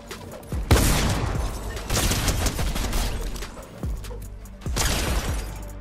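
Bursts of rapid gunfire from the video game Fortnite, in ranked Reload mode, crackle loudly in several volleys separated by brief lulls, with no voices over them.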